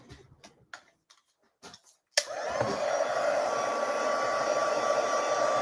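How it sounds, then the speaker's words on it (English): Embossing heat tool blowing over a craft card, a steady loud whirring hiss that starts suddenly and holds after a few quiet handling sounds. "I'm just going to emboss this while you fill in online and let me know in the comments."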